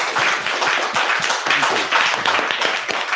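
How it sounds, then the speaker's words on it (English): Dense applause from a meetup audience after a presentation, steady and fairly loud clapping with a few louder taps throughout, no talking. "big round of applause then for Matt"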